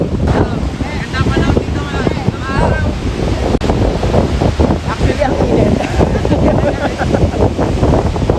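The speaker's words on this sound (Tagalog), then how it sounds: "ang lakas ng hangin dahil sa bagyo" Strong typhoon wind buffets the microphone with steady low rumbling gusts on a Zambales beach, surf noise underneath, while a person talks throughout.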